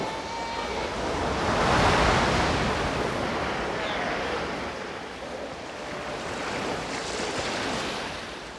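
Ocean surf breaks along a Patagonian shore, a broad continuous roar of crashing waves swelling and easing, loud and close with wind buffeting the microphone and no talk.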